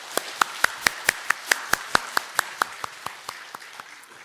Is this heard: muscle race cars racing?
no